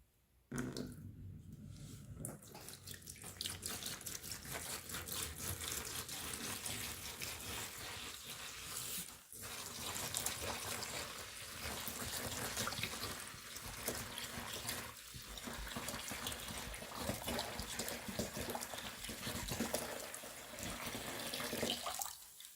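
A gallon of distilled white vinegar pours in a continuous splashing, gurgling stream for over twenty seconds, fairly even and moderately close, with no talking.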